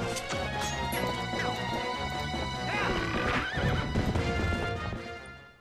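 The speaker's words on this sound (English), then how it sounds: "Come on, horse." Horse in Zelda: Twilight Princess HD neighing loudly with a rising whinny over galloping clip-clop hooves and a crash, close and prominent with music underneath.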